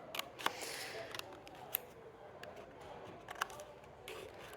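Scissors snipping out letters from a festive stencil: several crisp, close cuts at irregular intervals over quiet room noise.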